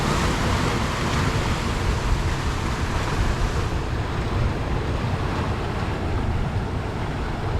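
Ocean waves surge steadily onto a rocky shore where bait is being gathered, a continuous loud wash of water mixed with wind buffeting the microphone, with no voices.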